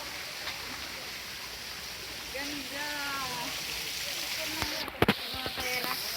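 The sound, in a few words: small waterfall flowing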